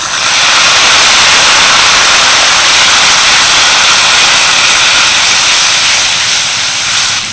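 Spice paste of cumin, coriander and garam masala sizzles in a pan with a little water added, a loud, steady frying hiss that runs unbroken throughout.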